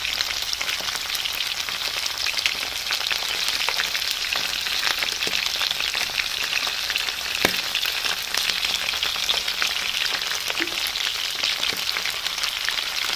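Butter garlic chicken pieces fry in a pan with a loud, dense, constant sizzle and crackle throughout, with no voices.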